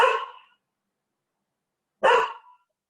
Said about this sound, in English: Is my dog disturbing you?